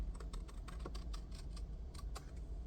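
Scissors snip glue tabs off paper in a quick run of small, crisp clicks, faint and close, with nobody speaking.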